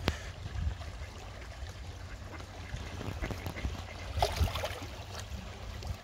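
Ducks quack at the West Dock of Woodbine Beach in Toronto, a few scattered calls over gently lapping water and faint outdoor background.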